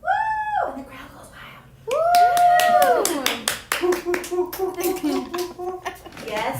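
A lone podcast host plays her own crowd, clapping rapidly and whooping with rising, drawn-out cheers, close to the microphone in a small room.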